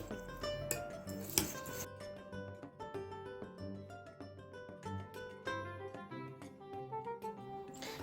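A spoon stirring butter into hot pudding in a pot for a roll cake recipe: light scraping and clinking of metal against the pot in an uneven rhythm, close but quiet, with a couple of sharper knocks.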